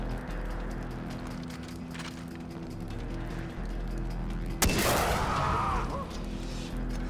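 Enemy sniper fire in Far Cry 4: a single sharp, loud crack erupts partway through over a steady droning background, its echo trailing off afterward.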